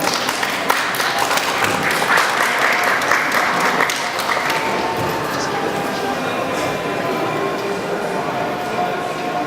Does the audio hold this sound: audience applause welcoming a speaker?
yes